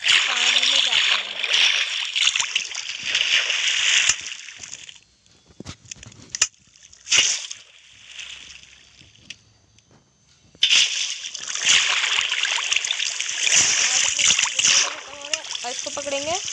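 Splashes in Minecraft as the player character drops into water, loud bursts of sloshing and splatter in two long stretches with a quieter gap of scattered clicks between.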